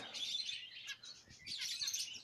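Orange-cheek finches kept in an aviary chirp in quick, high, faint bursts, with a short pause in the middle before the chatter resumes.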